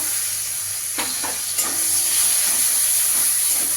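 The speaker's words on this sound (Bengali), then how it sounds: "এবার পেঁয়াজটা দিয়ে দেবো" Onion dropped into hot oil already tempered with whole cumin, bay leaf and dried red chilli, a loud steady sizzle and hiss with a sharp burst as it goes in, close and without talk.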